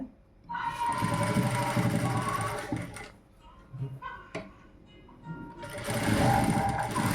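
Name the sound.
sewing machine stitching piping and lining on a neckline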